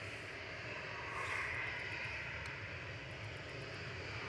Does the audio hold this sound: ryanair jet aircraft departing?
yes